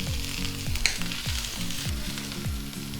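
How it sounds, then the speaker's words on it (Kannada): Chopped garlic, chilli and ginger fry in a pan, a steady close sizzle punctuated by a regular rhythm of stirring scrapes and knocks, with no one talking. "ಈಗ ಚೂರು ಫ್ರೈ ಮಾಡಬೇಕು"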